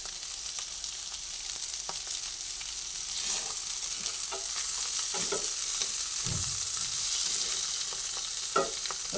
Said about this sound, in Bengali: দেখুন সুন্দরভাবে এটা ভেজে নিচ্ছি কাকল ভেজে নিয়ে